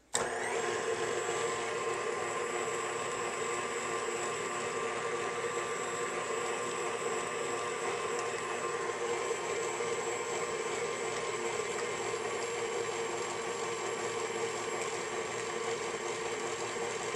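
A food processor blends smoked fish dip in a steady, continuous motor whir with a faint rattle, close and even in level throughout.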